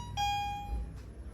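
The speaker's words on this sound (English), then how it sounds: "I like that chime." A 2004 Kone MonoSpace R7 machine-room-less traction lift at a shopping centre gives a single clear electronic arrival chime, a bright sustained tone that rings and slowly decays over a low hum of ambient background.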